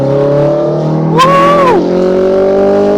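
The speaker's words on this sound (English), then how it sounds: "Let's give it some acceleration." Liberty Walk Ferrari 308 with about 300 horsepower revving hard in a steady loud drone, with a rising and falling whine around the middle as it accelerates.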